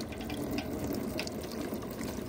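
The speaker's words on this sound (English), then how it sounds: "When I fill it from up here." Water poured from above into a children's water table, a steady, close splashing and trickling stream like rain, running evenly without pause.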